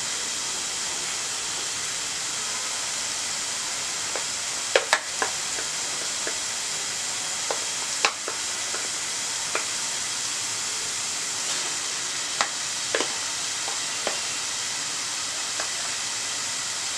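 Chicken pieces fry with onion, ginger and garlic in a pan, giving a steady, loud broad sizzle with occasional sharp pops and crackles, close and unbroken.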